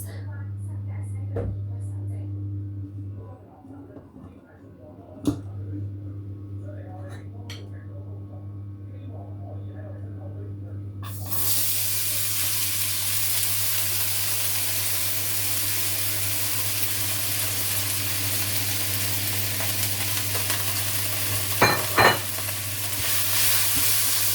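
Potatoes drop into hot cooking oil in a pan, setting off a sudden loud, dense sizzle partway through that stays steady after a quieter stretch with a low hum and a few light knocks.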